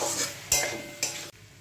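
Garlic stirred in hot oil in a pan, a steady sizzle with soft scraping strokes and two brief louder stirs, close and without talk.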